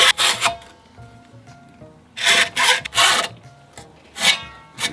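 Hacksaw cutting a one-inch slot for a kayak fishing rod holder, heard as bursts of rasping strokes in a few separate runs with quiet gaps between them, close and fairly loud.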